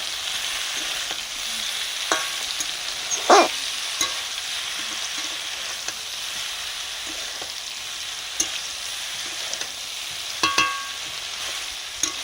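Ground mustard paste, onion and chili powder fry on low heat, with a steady soft sizzle, occasional spoon scrapes and stirring clinks close by.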